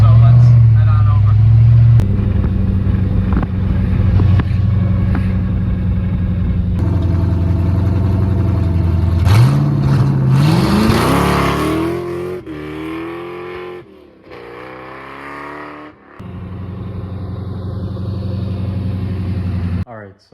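A procharged Fox-body car is driven hard on a freshly paved road, its engine droning loudly, then revving up through rising pitch as it accelerates and shifts, with wind and road noise throughout.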